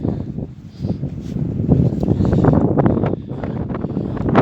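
Gusty wind buffets the microphone in low, uneven rumbles that rise and fall over a few seconds, on the Inonu battlefield hillside.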